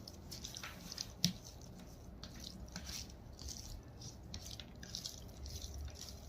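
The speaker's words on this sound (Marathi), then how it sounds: "आता आपण चांगलं मिक्स करून घेऊया।" Soft, wet squishing as bombil fish is mixed by hand with rava and spices, a quiet, steady patter of small moist squelches with one sharper tap near the start.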